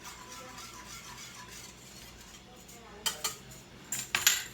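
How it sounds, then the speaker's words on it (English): A spoon stirs sauce in a pan for Burgundian chicken, starting with a quiet background and then a few distinct metallic clinks and scrapes near the end. "Give our sauce a little stir."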